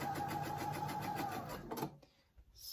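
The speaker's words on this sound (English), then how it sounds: "So I'm just going to keep taking a strip, and we're going to sew it corner to corner." A sewing machine stitches quilt strips diagonally corner to corner for a dog bone quilt, running in a steady, close, rapid mechanical whir for about two seconds before stopping, with no voices.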